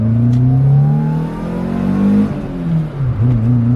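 A Toyota Starlet engine with individual throttle bodies accelerates hard at full throttle in first gear, its revving tone climbing steadily, then briefly dips before pulling again, loud and close.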